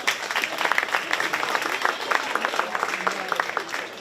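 Crowd in the stands at a county fair 4-H swine show applauds the young exhibitors, a steady patter of many separate claps, moderately loud and close, with a voice murmuring underneath.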